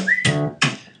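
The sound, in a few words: whistling in a song recording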